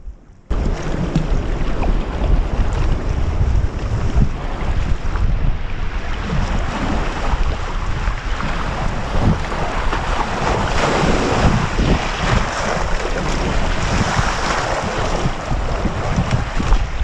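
Strong wind buffets the microphone while kayaking into Copper Harbor on Lake Superior, with a loud, steady roar of gusts and water wash running throughout.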